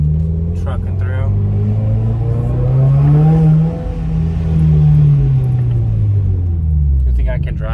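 Subaru WRX with the muffler deleted, heard from inside while driving a manual: a loud, deep exhaust drone rises and falls through gear changes, steady rumble throughout, with someone talking briefly over it.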